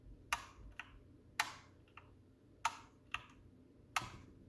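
Corsair K65 RGB Mini mechanical keyboard keys pressed one at a time in a quiet room, five or six sharp, faint clicks with a thin metallic spring ping and a hollow ring after each.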